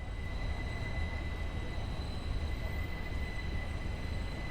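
A Bernina line Allegra train in Train Sim World pulls away with a steady, continuous rumble of wheels on rails and a faint sustained whine. The sound is even throughout, with no voices.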